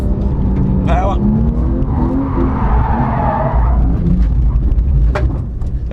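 Car accelerating hard out of a hairpin and sliding sideways in second gear, engine revving up under loud tire scrub and road noise, with voices talking over it.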